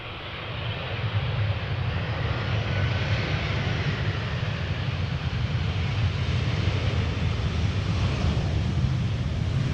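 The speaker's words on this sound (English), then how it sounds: "we have an Air France Airbus A320 arriving from Paris Charles de Gaulle, now touching down" An Air France Airbus A320 touching down at Amsterdam Schiphol in crosswind brings a loud, rising jet rumble that swells quickly then holds as a steady roar, with wind buffeting the mic.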